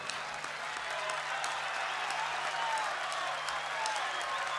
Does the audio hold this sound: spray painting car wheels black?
no